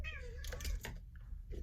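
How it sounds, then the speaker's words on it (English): A pet cat meows close by in a quiet indoor room, a single drawn-out call followed by a couple of shorter, softer mews, with no other sounds around it. "That's my cat."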